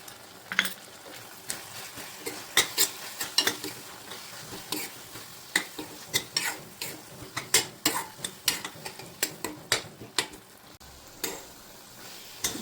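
Spice masala of turmeric, red chilli and salt sautés in oil in a pan for palak paneer, with a soft sizzle under repeated clicking spoon strokes that stir at an irregular pace, close by and fairly quiet.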